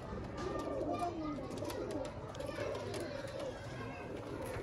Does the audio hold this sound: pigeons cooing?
yes